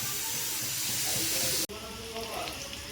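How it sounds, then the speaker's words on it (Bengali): Pieces of chicken deep-frying in hot oil on a medium flame, a steady loud sizzle with bright hiss that cuts out abruptly partway through, then resumes slightly quieter. "তেল গরম হয়ে গেছে, চিকেনগুলো দিয়ে দিয়েছি।"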